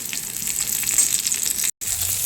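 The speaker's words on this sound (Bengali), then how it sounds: "বড়িগুলোও দিয়ে দিলাম, এগুলো একসঙ্গে ভেজে নিচ্ছি লাল করে" Lentil dumplings (bori) fry in hot oil with a steady, close crackle and hiss that runs without pause except for a split-second dropout near the end.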